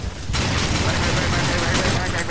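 Gunfire in the Darksiders II action game bursts in after a brief quiet moment and then runs on as a dense, loud, sustained rattle of shots with crashing combat noise, voices mixed into the din.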